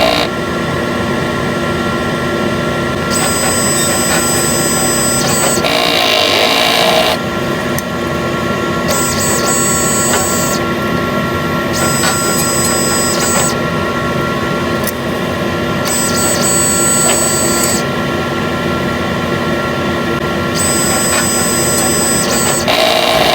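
A Smart One sublimation printer runs its head clean cycle, a loud continuous mechanical hum broken by repeated stretches of high whirring from the moving head, steady throughout with no talk.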